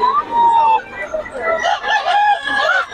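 Gamefowl roosters crowing and clucking, with a drawn-out crow followed by several overlapping crows and clucks, loud and close, while people talk in the background.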